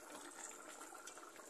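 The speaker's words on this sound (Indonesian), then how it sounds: "ini kita siram-siramkan kuahnya ke daging yang tidak tercelup" Mangut broth from a catfish (lele) dish is poured over the fish, making a soft, continuous watery splashing and trickling, close by, for a moment.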